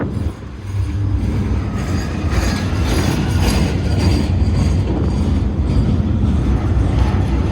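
A train rolls past on railway tracks close by, a loud continuous rumble with rhythmic wheel clatter and metallic squeal running throughout.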